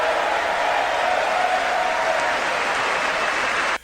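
A standing audience breaks into loud sustained applause, a thick even wash of clapping that cuts off abruptly just before the end.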